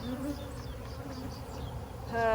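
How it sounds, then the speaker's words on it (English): Bees buzz around a beehive in a dense, steady hum nearby, with no talk. "And this is the Texas hive."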